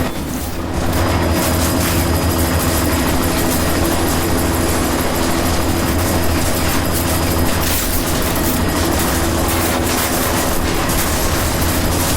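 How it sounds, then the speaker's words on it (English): A helicopter in Deus Ex: Mankind Divided makes a loud, constant rumbling mechanical drone that starts abruptly and holds steady under dense game sound, with no talk. "You've got to stop that chopper."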